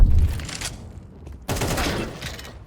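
Gunfire in a Counter-Strike 2 match, heard as two loud, dense bursts of rapid shots with a short quieter gap between them, close and with no talking.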